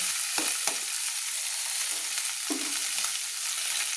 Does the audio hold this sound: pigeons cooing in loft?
no